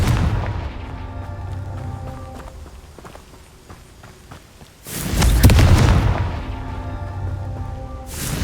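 A Confringo fire spell explodes in Hogwarts Legacy, a loud booming burst with a rumbling tail, heard over background game sounds and faint footsteps.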